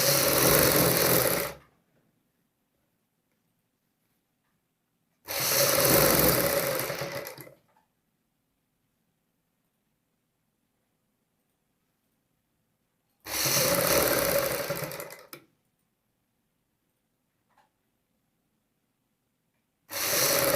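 A sewing machine stitching the collar of a kurti in three loud, close bursts of rapid whirring, each about two seconds long, separated by long silent pauses.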